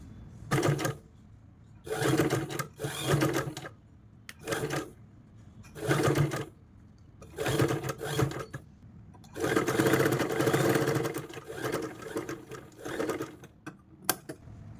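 Sewing machine stitching a folded lace neck design, running in repeated bursts of fast mechanical whirring separated by short pauses, with one longer continuous run near the end.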